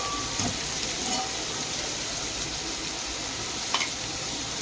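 Onions, curry leaves and green chillies fry in hot oil for a mutton keema curry, giving a dense, even sizzle close up, with a couple of faint clinks and no talking.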